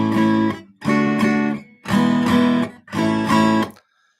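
Four strummed guitar chords ring out one after another in an even progression, each held about a second with short gaps between. The playing is clear and close, and no voice is heard.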